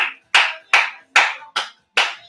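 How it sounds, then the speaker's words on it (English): Six sharp, evenly spaced hand claps keep a steady dance-class beat, close and loud with clean silence between each clap and no talking. "Okay, you can do clapping."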